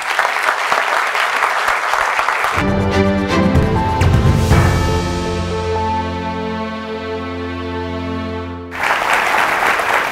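Studio audience applause on a news talk show; a burst of clapping opens the clip, then a loud musical sting takes over, and applause returns at the close.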